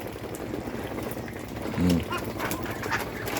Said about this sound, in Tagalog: Lingaw na ko ng mga pato.